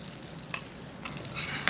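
Ghee goes into a hot pan of peas and dried fenugreek leaves (kasuri methi) for a veg Kolhapuri curry, giving a soft steady sizzle with a few sharp stirring clicks and a brief louder frying swell near the end.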